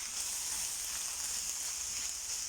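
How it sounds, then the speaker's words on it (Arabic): Filling ingredients fry in a pan with a steady, even sizzle while being stirred for a Moroccan-style savory pastry filling; a continuous close hiss with no talking. "نحرك المقادير باش ما يتحرقوليش"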